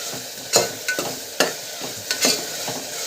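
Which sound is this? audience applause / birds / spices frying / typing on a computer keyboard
spices frying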